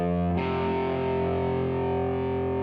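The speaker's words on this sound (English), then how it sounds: "I get this good old power chord, aggressive rock and roll sound." A distorted electric guitar power chord strikes once and rings out, thick and sustained with gritty overdrive, fading slowly over about two seconds, with no voice over it.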